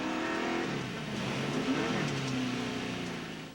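A NASCAR Winston Cup race car at Talladega Superspeedway, its engine droning and revving steadily at close range as the car turns around and heads toward the pits, fading slightly at the end.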